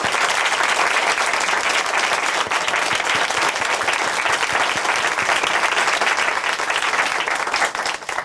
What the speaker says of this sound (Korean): 우리 형제님의 앞날도 함께 박수로 응원해 드리겠습니다.